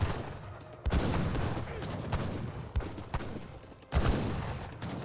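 Cannon blasts and gunfire crackle through a strategy video game battle, a steady dense rumble of shots punctuated by several sharp louder booms, with commentary spoken over the action.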